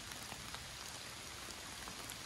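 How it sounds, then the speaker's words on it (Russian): Steady rain falls through a forest, a soft, even patter of drops on leaves and ground, heard alone without any voices. "Идет дождь."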